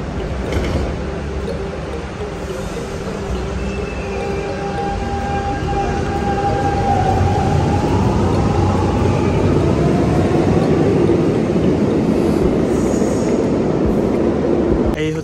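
A metro train runs at a station with a loud, steady rumble and roar, and rising and falling electric whines from its motors, close and continuous throughout.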